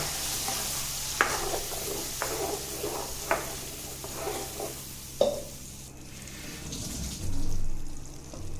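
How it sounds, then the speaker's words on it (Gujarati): Prepared gravy and water go into a sizzling pan for Kathiyawadi dum aloo, with spoon scrapes and clinks over steady frying hiss, then a brief pouring gush near the end. "તૈયાર કરેલી ગ્રેવી નાખીશું. તેમાં આપણે થોડું પાણી ઉમેરીને પણ નાખવાનું છે."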